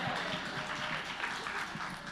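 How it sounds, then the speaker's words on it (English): Audience at a media business talk gives a short burst of steady, fairly faint applause, dense clapping with no gaps. "Yes, give her applause."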